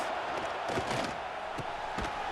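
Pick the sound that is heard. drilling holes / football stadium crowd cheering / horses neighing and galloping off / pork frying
football stadium crowd cheering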